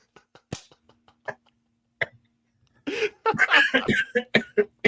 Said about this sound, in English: You're having cough.